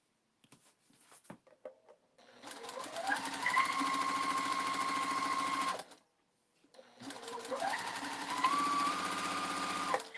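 A sewing machine stitching cotton quilt pieces runs in two steady bursts of rapid mechanical whirring, each a few seconds long with a short pause between, preceded by faint clicks from handling the fabric.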